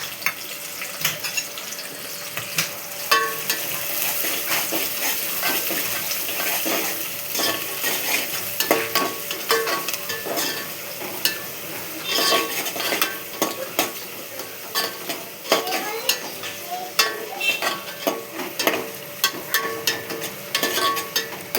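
Green chillies, curry leaves and onion frying in hot oil: a loud, continuous close sizzle with frequent clinks and scrapes of a ladle stirring against the pan, steady throughout with no talking.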